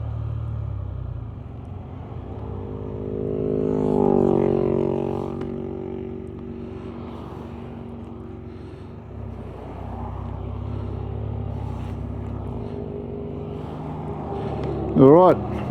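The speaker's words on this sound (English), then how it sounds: "Heaps of traffic." Highway traffic passes a group of riders on Can-Am Spyder and Ryker three-wheelers in the Lockyer Valley, a steady low engine rumble swelling as vehicles go by, with a voice talking over it.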